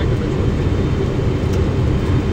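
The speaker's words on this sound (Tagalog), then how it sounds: "Panoorin muna natin ang landing sa Guangzhou." Airplane landing at Guangzhou, heard from inside the cabin as a steady, loud low roar and whir of engines and airflow that holds constant throughout with no talk.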